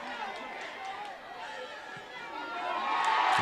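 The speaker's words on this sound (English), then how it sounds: "A lot of cheers from the crowd." Crowd noise rises at a high school football game after a successful extra point kick, a broad steady roar swelling louder toward the end, with voices mixed in.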